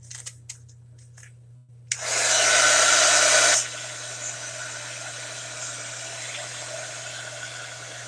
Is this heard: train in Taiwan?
no